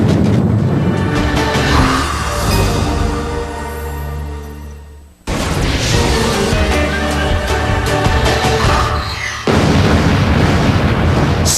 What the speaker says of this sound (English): one of the largest supervolcanoes ever erupts in Indonesia